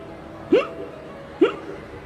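A voice imitates two short hiccups about a second apart, quiet against a faint room hum, during a devotional discourse.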